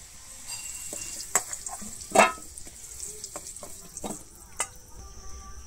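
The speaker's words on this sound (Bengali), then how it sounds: "আলুটা কিন্তু আমি খুব সুন্দর লাল করে ভাজবো।" Potatoes fry in oil until browned for a Bengali-style egg curry, a close, steady sizzle punctuated by sharp spatula scrapes and clicks against the pan, with no talking.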